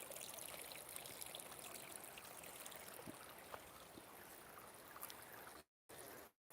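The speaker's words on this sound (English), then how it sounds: "we're gonna walk in the river," Water flows steadily over rocks in a small river stream, a close, loud, continuous rushing wash that drops out twice briefly near the end.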